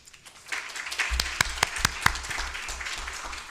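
An audience gives scattered applause after a talk at a disaster resilience program event, with a few sharper individual claps over a soft, steady wash of clapping that starts up quickly.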